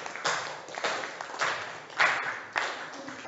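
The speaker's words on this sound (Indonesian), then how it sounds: "tepuk tangan untuk kelompok 1" Students in a classroom clap for a group, a sparse, uneven patter of hand claps that rises in a few sharper bursts before thinning out.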